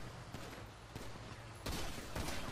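Gunfire in the video game GTA V, faint and somewhat distant: a few scattered pops early, then a denser rattling volley in the last second, over a steady low background hum.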